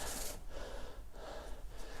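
Heavy, rapid breaths with sharp gasps and snorts during a fast shadow-boxing exercise workout, close and fairly soft, with no talking.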